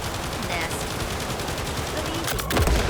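Gunfire in the video game Crimson Desert, a dense steady rattle of rapid shots running throughout, with a heavier, louder blast near the end.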